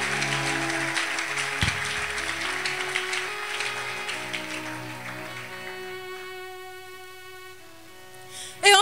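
A church congregation applauding and cheering in worship, a broad wash of clapping over sustained organ-like musical tones that gradually thins out, ending in a short louder burst.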